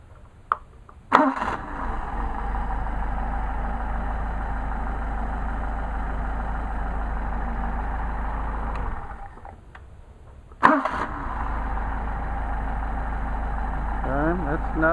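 Engine fed by worn Solex carburetors catches quickly and idles steadily, cuts out for a moment, then fires again in a hot restart with a sharp catch before settling back into an even, close idle.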